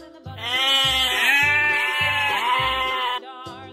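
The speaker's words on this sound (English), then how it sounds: "Sheep." Sheep bleating loudly and close, a few sustained wavering calls running together with no talk.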